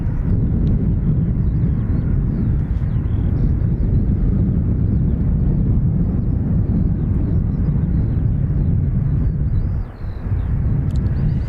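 A Ryanair airliner arriving from Bristol roars overhead at Dublin Airport, a loud, continuous low rumble holding steady throughout with wind buffeting the microphone, no speech.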